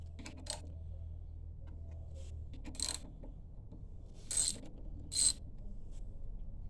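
A ratchet turning a 12-point socket to loosen connecting rod bolts on a Predator 301cc engine fitted with a billet rod, heard as a few short, quiet clicking bursts separated by pauses and low background hum.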